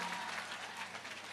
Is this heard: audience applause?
yes